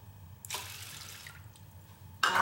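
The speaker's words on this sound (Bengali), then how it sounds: "এখন আমি এতে 2 কাপ পরিমাণ জল ঢেলে দিচ্ছি।" Two cups of water poured over rice and lentils left to soak, a near splashing pour that starts abruptly, trails off into faint trickling, then a second louder splash at the end.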